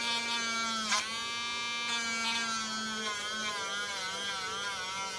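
A Dremel rotary tool grinds down the shaft of a stepper motor, a steady high whine running throughout with slight pitch wobble as the bit bites and eases off, close and continuous with no voices.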